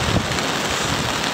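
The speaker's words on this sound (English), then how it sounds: "it's getting very windy" Strong wind gusts through a riverside campsite during a storm on the Upper Pitt River, a loud, steady roaring rush with a rain-like hiss and no pauses.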